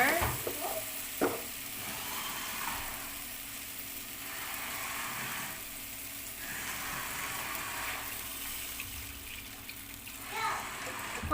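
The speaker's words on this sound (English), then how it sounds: "it's time for us to add our water" Water pours steadily into a cooking pot of salmon and shrimp sinigang with a hissing, sizzling rush in a few surges, while a voice is heard faintly in the background.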